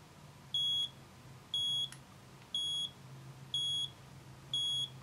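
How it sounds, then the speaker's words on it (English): A Creative Digital LED Clock, model 35490, sounds its alarm: five evenly spaced, high, steady electronic beeps, each about a third of a second long, repeating alone over faint background hum. "And it'll keep ringing until it's below its set point."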